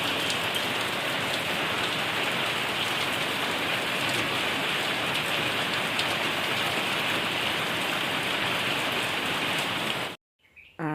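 Steady morning rain in a village, an even dense hiss of drops on surfaces throughout, close and loud, cutting off abruptly near the end.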